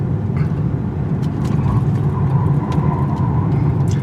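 A 2018 Hyundai Kona taking a corner quickly in sport mode gives a steady low road and engine drone heard from inside the cabin, with light tire noise and faint ticks, and no voices.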